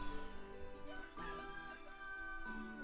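A rooster crows in the medieval city-building game Kingdoms and Castles, a drawn-out cock-a-doodle-doo heard faintly over a bed of soft game music.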